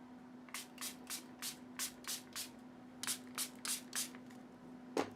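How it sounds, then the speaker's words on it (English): Water is spritzed onto acrylic paint brushes with a spray bottle, about a dozen short, crisp hissing bursts in quick rhythmic pairs and runs, close and quiet over a faint steady hum. "I need to spray water on my brushes here."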